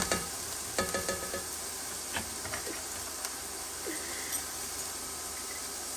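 Ground pork sizzles and fries steadily in a hot pan, a constant crackling hiss with occasional clicks and scrapes of stirring, close and fairly loud with no talk.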